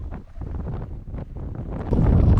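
Strong gusting wind buffets the microphone on a snowy mountainside near North Ushba (4697 m) in the Georgian Caucasus during a storm with heavy snowfall, a steady loud roar that swells louder near the end.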